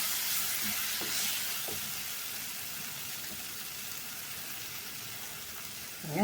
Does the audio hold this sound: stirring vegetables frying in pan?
yes